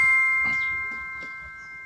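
A notification bell sound effect rings once and sustains as a clear, steady chime that slowly fades, with faint soft knocks beneath and no speech.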